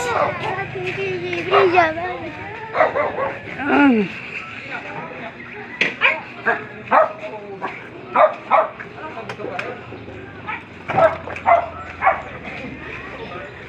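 A dog barks and yips in a series of short, sharp bursts, with people talking and murmuring in Filipino in between.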